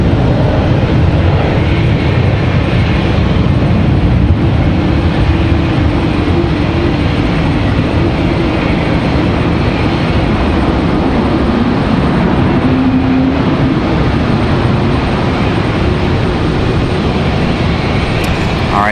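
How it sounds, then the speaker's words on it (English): A Delta Boeing 737 touches down at Raleigh-Durham airport, its engine roar a loud, broad, sustained rush with a faint rising whine, steady throughout without voices. "So the Delta 737 is going to touch down."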